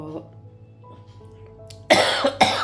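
A voice speaks quietly, then two sharp, loud coughs follow one after the other near the end.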